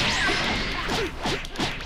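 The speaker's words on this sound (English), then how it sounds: "you can hear me button smashing, I'm sorry" Rapid plastic clicks of buttons mashed on a game controller during a Dragon Ball Xenoverse fight, close to the mic and blended with whooshing, smashing game sound effects for a couple of seconds.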